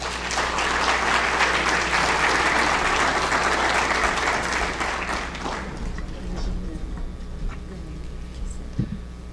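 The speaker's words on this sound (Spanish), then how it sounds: "lo recibamos en este escenario con un merecido aplauso" An audience at a solar photovoltaic industry talk gives loud, sustained applause to welcome a speaker onto the stage, dense clapping that fades out over several seconds and leaves a quieter room.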